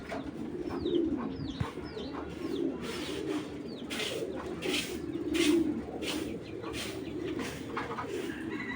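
A black checker racing pigeon coos in low, throaty rolling calls repeated every couple of seconds, with faint chirps from other birds nearby and someone talking over them.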